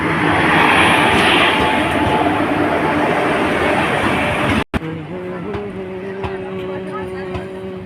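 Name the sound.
train arriving at station, bound for Bhavnagar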